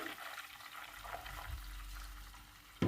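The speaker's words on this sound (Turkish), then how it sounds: "Bir su bardağı sıvı yağımızı da ilave edelim." Vegetable oil pours into melted butter in a pot, making a soft, continuous liquid rush that swells slightly midway and ends with a brief bump. No voices are heard.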